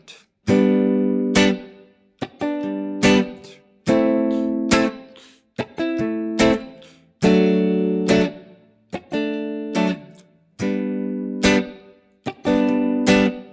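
Guitar chords in a 2-5-1 progression in G are strummed in a steady pattern, each chord ringing briefly before being cut off, with short muted strokes between them and no voices.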